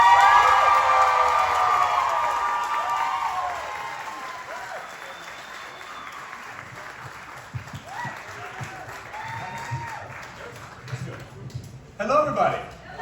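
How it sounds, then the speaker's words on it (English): A panel audience at a Superman celebration gives a guest loud applause with cheers and whoops, fading into softer scattered clapping while people talk, then a brief renewed burst near the end. "have an amazing round of applause for our guest, Tyler Hoechlin."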